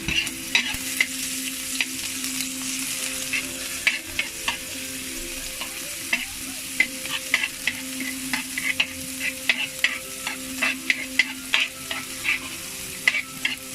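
Garlic and onion sauté in a pan, a continuous close sizzle broken by frequent sharp scrapes and taps of a spatula stirring at an irregular rhythm.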